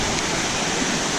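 Wang Kan Lueang Waterfall in Lopburi roars in the rainy season, a dense, continuous rush of falling water filling the scene at steady loudness without pause.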